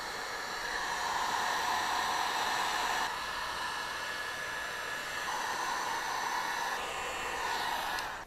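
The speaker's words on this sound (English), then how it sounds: "Grab your heat gun and warm it up from about 2 to 3 inches away from the field." A heat gun held two to three inches from window tint film blows a steady, close airy hiss that runs unbroken from start to finish.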